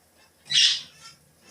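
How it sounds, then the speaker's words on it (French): Bird call in the video game Farming Simulator 2017: a single brief, bright chirp near the start followed by fainter echoing traces over a quiet background. "je suis désolée pour ces bruits d'oiseaux qui sont chiants"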